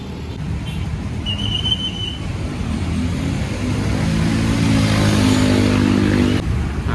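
Harum Prima bus arriving with its engine running, a steady loud rumble that slowly builds, with a brief whistle-like tone early on.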